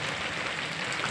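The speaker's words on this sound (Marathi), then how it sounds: "मस्त पाऊस चालू आहे." Steady rain falls outside in a continuous, even wash of dense hiss, with no voices and no gaps.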